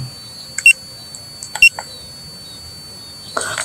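A Speedybee Mario Fold 8 drone signals GPS lock with two short, sharp high beeps about a second apart. They are loud and close over a quiet background, and another faint chirp follows near the end.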